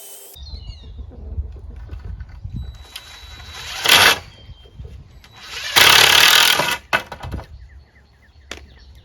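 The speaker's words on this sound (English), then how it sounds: "I do a little pre-drill because these are super small" A power drill pre-drilling small pieces of wood while building a rabbit tractor, heard in two short whirring bursts, the second longer, with handling knocks between them and no talk.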